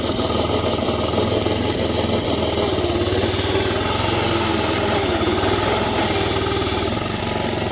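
A petrol lawnmower engine runs steadily on low throttle, a loud, continuous close-up drone with a rapid firing rhythm that holds unchanged from start to finish, with no voices.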